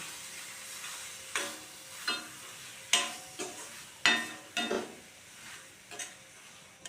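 A spoon scrapes and clinks around a pan of quail egg gravy, giving a series of distinct stirring knocks about every half second to second over a faint background hiss, close and fairly quiet.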